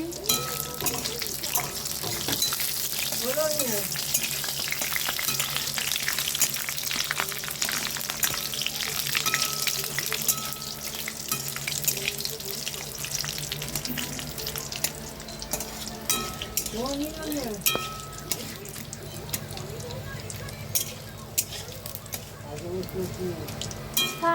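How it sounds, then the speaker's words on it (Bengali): Whole bay leaves and whole garam masala spices fry in oil in a pan as fried rice cooking begins. A steady, close sizzle is stirred now and then, and a voice is heard faintly at times. "গোটা তেজপাতা, গোটা গরম মশলা একটু ভেজে নিচ্ছি"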